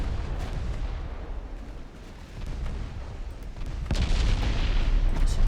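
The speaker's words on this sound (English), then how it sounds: "Secondaries, keep firing there." Secondary guns on a warship booming in the Ultimate Admiral Dreadnoughts naval game during an Austro-Hungarian encounter, a dense rumbling barrage of overlapping shots that swells louder toward the end, with no talk.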